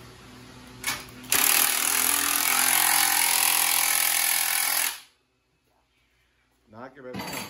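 Motorcycle fitted with a racing exhaust, revved hard in a loud, sustained roar for several seconds before cutting out, then a brief restart burst near the end.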